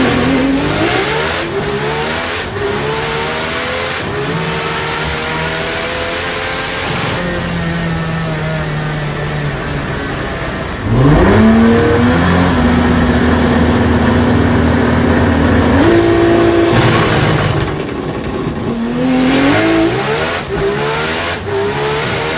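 A 2100-horsepower Supra race car with a manual gearbox accelerates hard down a drag strip, its engine roaring loud and close with rising pitch sweeps through several gear changes, heard steadily from inside the car.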